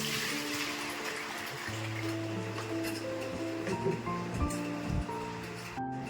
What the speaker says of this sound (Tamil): இதுல ஃபர்ஸ்ட் நம்ம கால்வாசி தண்ணி ஊற்றணும்